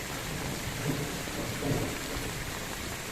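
Heavy rain pours down steadily on a freshly planted garden during a thunderstorm, a dense close hiss broken by low rumbles of thunder.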